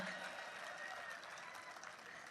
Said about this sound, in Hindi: कमाल है, तालियां तो बजनी चाहिए भाई